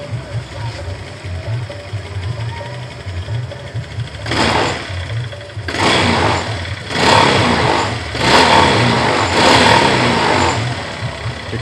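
A Honda Vario 150 scooter engine, which stutters when cold, idling and then revved in several short bursts, each throttle blip loud and close with a rising whine before falling back to idle.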